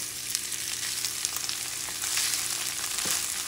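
Onions and already-boiled potatoes sizzling in a frying pan, a close, steady hiss and crackle with a few louder pops and a stirring scrape near the end.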